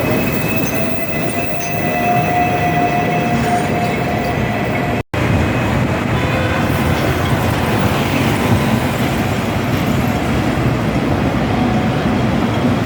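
Hong Kong tram running at night, a steady loud rumble of wheels on rails with a faint squeal, heard from on board without talk.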